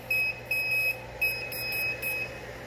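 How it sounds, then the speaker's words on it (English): A K40 laser cutter with a fault gives off a series of short, buzzy high-pitched pulses in an uneven rhythm over a constant low electrical hum, fairly close and without talk. "It's like a humming, buzzy noise."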